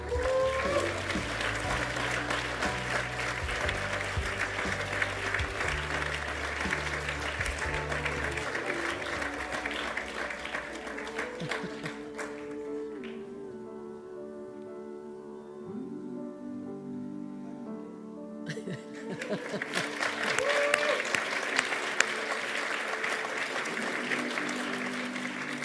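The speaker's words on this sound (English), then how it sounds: "And please, a rousing round of applause for these incredibly important members of our community." Audience applause at the 2025 Victoria Australian of the Year Awards ceremony, a sustained broadband wash of clapping over a music bed that thins briefly midway before swelling again.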